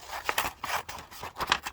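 Scissors snipping and sliding through gel-printed paper, trimming off white edges for a collage, several quick cuts in an uneven rhythm, close up with a crisp rustle.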